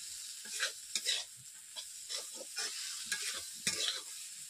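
Potato and barbati (yardlong bean) vegetables being sautéed in a pan, a soft sizzle under repeated spatula strokes and scrapes coming in irregular bursts, close but fairly quiet.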